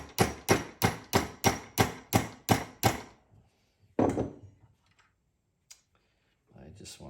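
A hammer strikes metal hardware from a hand plane tote, nine sharp, evenly spaced ringing blows in quick succession, followed by a pause, a single heavier hit and faint handling sounds.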